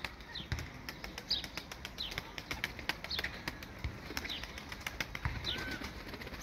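Pigeons kept for sale flap and land around a loft, with repeated sharp wing claps and taps at an uneven rhythm, faint chirps, and a steady background hiss throughout.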